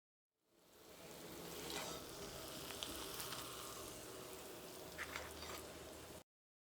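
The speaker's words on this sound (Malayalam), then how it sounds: "ഇതേപോലെ ബാക്കിയുള്ള പപ്പടവും ഇങ്ങനെ തന്നെ വറുത്തെടുക്കുക." Papad vada fries in oil with a dense, even sizzle that rises in and holds steady for several seconds, fairly quiet overall, before cutting off abruptly.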